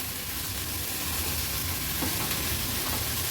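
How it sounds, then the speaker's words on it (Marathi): Leafy green vegetable stirred with salt in a pan, a steady soft sizzle and scraping stir running continuously at close range, with no voices. "मीठ ॲड केल्यावर व्यवस्थित मी मिक्स करून घेतली आहे"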